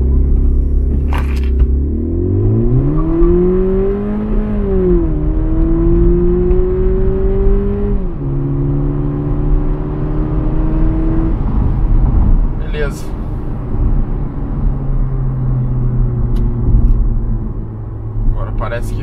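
A chipped Volkswagen Polo GTS accelerates hard from a standstill in a 0 to 100 test, the engine climbing in pitch through several gear shifts, loud and heard from inside the car with a steady road rumble beneath.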